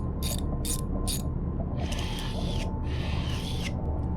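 In the game Barotrauma, a wrench ratchets in three short clicking bursts and then two longer grinding spells over a steady mechanical hum, as a device is repaired aboard a submarine.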